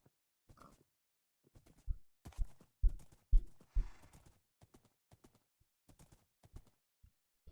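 A horse walks in the Minecraft video game, giving sparse clip-clop hoof steps in short irregular bursts with quiet gaps between them.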